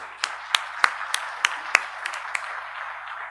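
Sparse applause from an audience at a formal launch event honoring Justice Indu Malhotra, a handful of distinct, spaced claps ringing out over a quiet room before fading.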